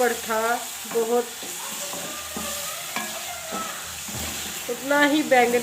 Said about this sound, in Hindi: मसाले को अच्छी तरह से भूनेंगे।